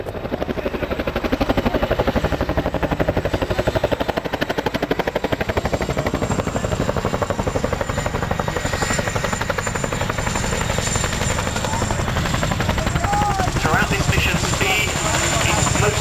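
A heavy twin-rotor Chinook helicopter thunders continuously nearby during a battle demonstration at the 2008 Cosford air show, a deep rapid thudding with a dense engine roar that stays loud and steady throughout.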